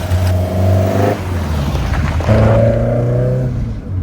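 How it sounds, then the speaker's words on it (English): Engine of a 1972 Ford Escort Mexico while driving, loud and close through an open window, pulling hard through the revs, easing off at a gear change, then climbing again. "so you can hear the engine properly, because it absolutely flies."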